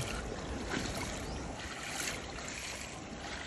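Strong, deep flood water pours over an overflow in a steady, close roar of rushing water that holds without a break throughout.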